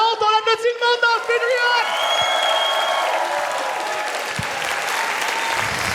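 A live comedy show audience in Sherbrooke breaks into loud applause with some cheering, right after a voice finishes speaking, then keeps clapping steadily.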